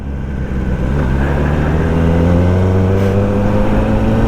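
A 2021 Kawasaki ZX10R motorcycle accelerates hard at top speed, its engine note climbing steadily through a loud, close, sustained pull with wind roar underneath.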